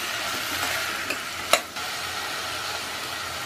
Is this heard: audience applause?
no